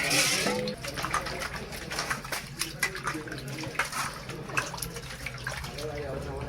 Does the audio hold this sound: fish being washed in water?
yes